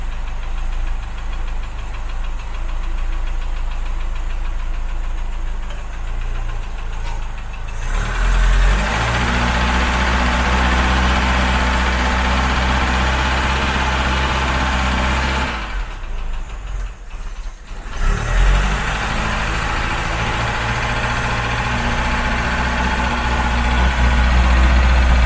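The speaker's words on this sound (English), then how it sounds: "It's starting to not idle much now." A Ford Cortina Mk3 engine idles close by with a steady low rumble and a slightly uneven beat, rising and dipping in level twice, with no talk over it.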